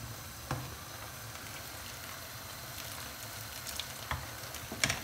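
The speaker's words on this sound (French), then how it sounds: "je vais remettre encore un petit peu de bouillon" Asparagus risotto simmering gently in a pan after more broth goes in, giving a soft, steady sizzle and bubbling with a few faint clinks, low and even throughout.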